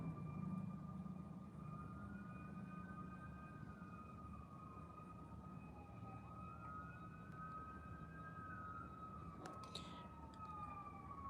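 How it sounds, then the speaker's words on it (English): A wailing emergency siren rises and falls steadily over a low rumble of traffic, with a second siren tone overlapping, fairly distant but clear. "Oh, I hear sirens."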